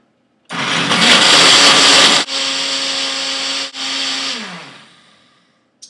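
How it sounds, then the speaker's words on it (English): A countertop blender purees almonds for raw chocolate almond milk, roaring loudly and steadily for about four seconds with two brief dips in power, then spinning down to a stop. "we're going to go ahead and blend this up nice and smooth as we can get it"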